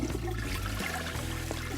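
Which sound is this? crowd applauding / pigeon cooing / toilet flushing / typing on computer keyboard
toilet flushing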